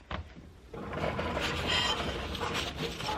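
A vinyl cutting machine running through a cut for a tic tac toe board, producing a continuous mechanical whir with faint clicking and ratcheting movements, moderately quiet and steady, without speech.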